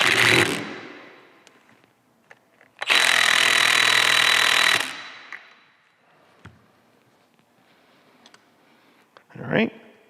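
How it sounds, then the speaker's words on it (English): A 3/8 impact wrench tightens fork bolts on a Harley Road King front-end conversion, giving one sustained loud burst of about two seconds, with quieter clicks and a short final hit around it. "the easiest way to tighten these down is with a 3/8 impact"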